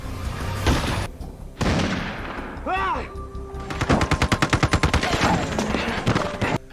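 Gunfire in a film scene: heavy impacts and single shots give way to a rapid, rhythmic machine-gun burst, with loud, close shots cutting through dense background action.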